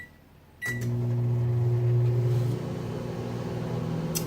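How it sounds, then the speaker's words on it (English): A click and beep, then a microwave oven starts up with a steady low hum that drops in pitch slightly partway through. "And then I am going to put those in the microwave"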